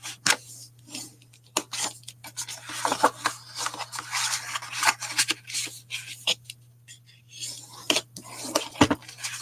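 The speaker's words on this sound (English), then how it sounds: "Now I'm going to fold it and burnish it on all of those score lines." Quiet rubbing and scraping strokes come from scored paper card being folded and burnished by hand at a craft table. The strokes arrive in irregular bursts over a steady low hum, with faint crinkles of paper.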